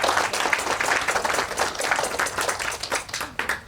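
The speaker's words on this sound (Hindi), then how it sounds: "एक बार उनके लिए जोरदार ताली बजाएं" Audience applause filling a Hare Krishna temple hall in Potomac, Maryland: dense, steady clapping from many hands, loud and close, swelling and thinning slightly over a few seconds with no voices over it.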